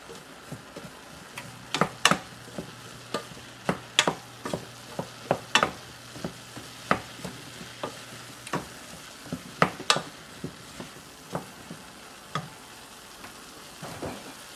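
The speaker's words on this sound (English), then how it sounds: "let's give this a mix" A spoon stirs a hot breakfast quinoa mixture in a pot, striking the sides in sharp, irregular clicks and taps over a soft wet swishing bed, close and steady for about fifteen seconds with no voices.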